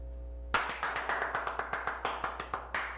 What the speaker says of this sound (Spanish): Aprovecha que te estoy aplaudiendo